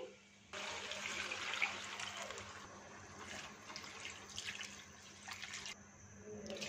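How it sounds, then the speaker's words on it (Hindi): Water poured from a cup into a cooking pot of soaked rice for chicken pulao, a steady close splashing stream that runs alone for several seconds before stopping. "ये 2 प्याली चावल थे तो अब हम 4 प्याली पानी डालेंगे।"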